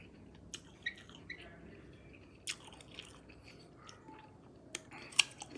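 Someone bites and chews a crunchy fresh guava picked near a house, making faint, sparse crunching and crackling bites close to the mic in a quiet setting.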